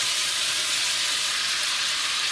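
Sausage fries in olive oil in a pan, giving a continuous loud, close sizzle with a broad hiss and no pauses or voices.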